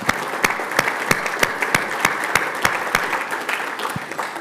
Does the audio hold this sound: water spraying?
no